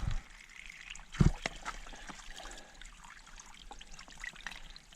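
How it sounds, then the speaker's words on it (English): Water trickling and splashing from a rusty pipe at a trailside spring on the Appalachian Trail, a steady soft outdoor flow with one brief louder thump near the start. "Nice rusty pipe to get your water from."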